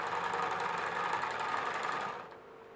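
A sewing machine stitches a ½-inch seam along a jacket neckline, a steady close whirring run of about two seconds that stops abruptly and leaves quiet room tone.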